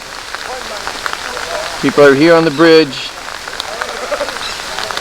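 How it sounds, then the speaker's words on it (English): Steady hiss of heavy pouring rain at an outdoor construction site near a bridge, a continuous wash throughout with a brief spoken phrase from a man in the middle. "Despite the pouring rain,"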